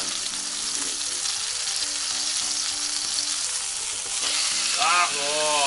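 Chicken thigh pieces sear skin-down in a frying pan, giving a steady, loud, close sizzle with crackling spatter that swells near the end, with no talk.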